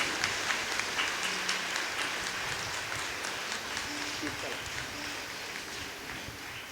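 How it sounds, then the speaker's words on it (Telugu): A congregation at a studio inauguration at the Bishop House in Eluru claps together, giving a continuous, even wash of applause that holds steady throughout. "అందరం కూడా ఒకసారి చప్పట్లు కొడదాం."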